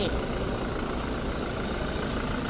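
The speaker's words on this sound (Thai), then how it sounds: "เครื่องยนต์เดินเงียบนิ่งๆ อย่างนี้ที่สตาร์ทไว้ให้" A 2020 Toyota Fortuner 2.4 V idles with its engine running: a steady, even rumble and hiss held at a constant level throughout, with no revving.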